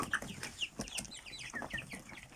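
Young chickens cluck and chirp softly, several birds at a short distance making quick overlapping calls in a quiet outdoor setting.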